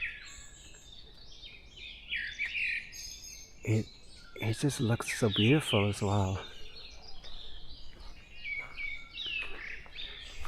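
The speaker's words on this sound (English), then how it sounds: "And the bird sounds are just amazing." Forest birds chirp and whistle in bright, overlapping calls on an early morning walk, while someone speaks close to the microphone over them.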